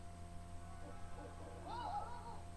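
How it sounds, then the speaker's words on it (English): A soft owl hoot, rising and falling, sounds faintly near the end over a steady low background hum from an animated film scene about a magic railroad. "Scared of a hooting owl."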